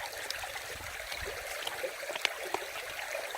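Clean water trickling and gurgling through a small camping water filter as it is back flushed at a Dartmoor wild camp near Fur Tor, a steady close dribble with small splashes.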